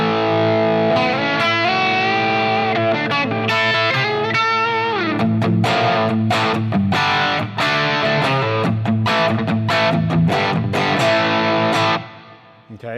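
An electric guitar plays a lead line through a Fractal FM9 modeler set to a tube drive like the BK Butler Tube Driver, with a sustained, overdriven, singing tone and fast picked runs, loud and steady until it cuts off near the end.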